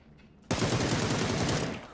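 Automatic gunfire in the battle royale game PUBG: after brief quiet, a loud sustained burst of rapid shots erupts and carries on for about a second and a half before tapering off.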